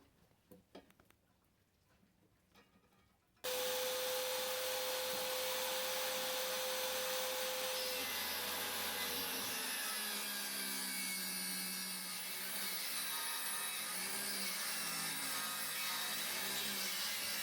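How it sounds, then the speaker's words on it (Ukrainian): A circular saw starts abruptly after a quiet moment, running loud and continuous with a high whine as it cuts through wood, the pitch shifting under load. "Вирішив упростити собі роботу і відпиляти все на циркулярній пилі."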